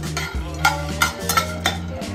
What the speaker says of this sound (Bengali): আর পেঁয়াজটা আমি কাঁচা পেঁয়াজ দিয়ে রোস্ট করছি ভাজাগুলো।